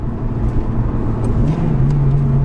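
Honda Integra Type R DC5 engine revving hard, then a quick break in tone as it shifts into second gear and pulls again, heard from inside the car, loud and steady with road noise underneath.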